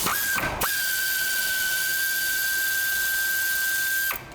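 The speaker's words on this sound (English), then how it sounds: "I'm going to use the air tool now" An air tool whines loudly and continuously up close while loosening alternator bolts on a Vauxhall Vivaro, holding a steady high tone for several seconds before stopping.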